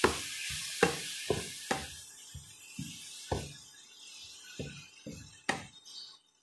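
A spoon or spatula scrapes and knocks against a frying pan while chopsuey with squid balls, shrimp and chicken is stirred, giving sharp, irregular clacks a fraction of a second to a second apart over a faint sizzle.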